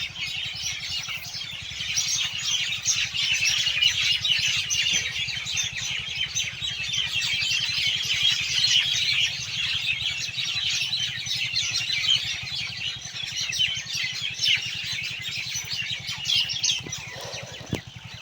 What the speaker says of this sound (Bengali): পাখির ডাকগুলো আপনাদেরকে একটু শোনানোর প্রয়োজন মনে করলাম